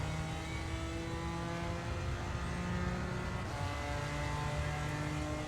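A BMW M4 GT4 race car accelerating hard around Suzuka in a racing video game, its engine a steady, loud, close drone with rising harmonic tones and a slight gear shift partway through.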